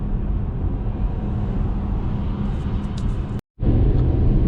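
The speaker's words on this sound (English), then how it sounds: "we're now on the motorway, and the noise levels went up" Steady low road rumble and tire roar from inside a car at speed on a motorway, broken by a sudden brief dropout before the drone resumes, slightly louder.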